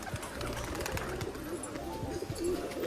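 Pigeons cooing nearby in repeated soft, low rhythmic coos over a busy background of other noise.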